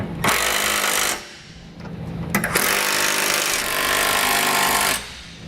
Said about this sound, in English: I'm going to come back with a 17mm socket and snug up all my hardware.